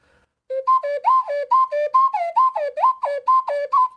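An ocarina plays a quick run of short, choppy notes with uncoordinated fingering, tonguing and breath, the pitches wobbling and sliding unevenly instead of connecting cleanly.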